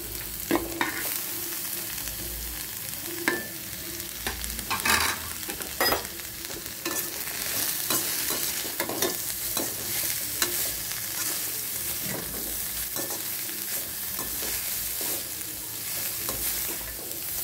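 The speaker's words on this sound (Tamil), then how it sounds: "கேரட் பார்த்திங்க நல்லா வதங்கட்டும்." Carrots for carrot rice sauté in a pan with a close, crackling sizzle, and a spoon stirs them with repeated scrapes and taps against the pan throughout. No one speaks.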